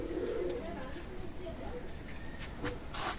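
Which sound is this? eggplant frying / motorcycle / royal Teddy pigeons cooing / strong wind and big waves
royal Teddy pigeons cooing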